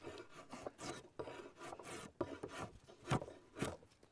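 A drawknife shaves a wooden plow handle toward a flat face, giving repeated close rasping strokes of uneven length with a few sharper scrapes, and no voices.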